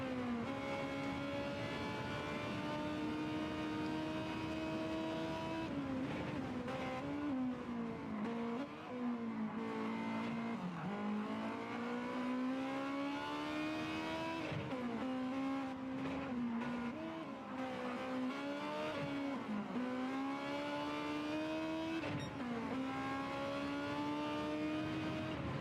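Onboard view of a Honda Civic Type R race car in Gran Turismo 7 at Blue Moon Bay infield, a continuous loud engine drone rising and falling through gear changes and revs for the whole stretch, without talk.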